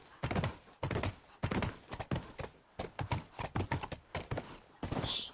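A horse's hooves clip-clop in the video game The Last of Us, a steady run of close, hollow thuds at a walking pace, loud and clear with brief pauses.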